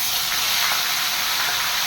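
Onion, garlic and ginger paste sizzles in hot oil with a steady, loud, even hiss and no talking, while fish is being cooked in a yogurt curry.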